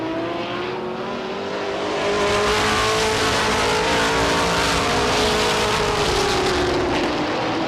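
Race cars roar around Star Speedway in a pack, engines droning loudly with shifting pitch as they sweep through a turn and down the back straightaway.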